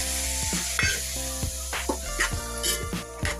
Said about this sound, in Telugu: వేయించుకునే వరకు ఇట్లా కలుపుకోవాలి